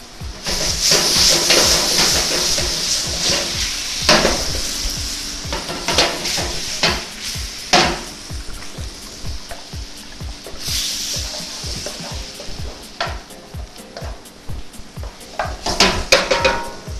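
Liquor sizzling and hissing in a hot pan on lowered heat while making pizza sauce, with a utensil stirring and scraping against the metal in irregular clicks and clatters, close and fairly loud, no talk.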